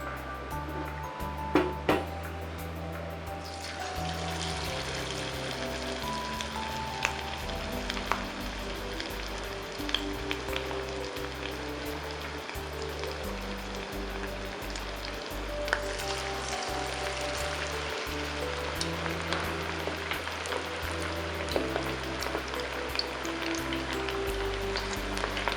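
Prawns deep-frying one by one in hot oil for a crispy Koliwada starter, a steady bubbling sizzle that surges as pieces go in, with low background hum and occasional clinks, no talking.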